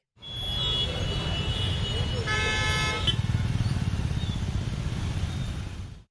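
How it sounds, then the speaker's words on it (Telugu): Stalled city traffic on rain-flooded Hyderabad roads, with a dense steady rumble of engines and a car horn blaring loudly in the middle, other honks and motor noise continuing throughout. "స్తంభించిపోయిన ట్రాఫిక్"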